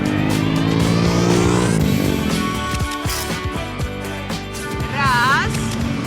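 A car revs and passes close on a quiet road in Iquitos, Peru, its engine rising then fading, with someone talking over it.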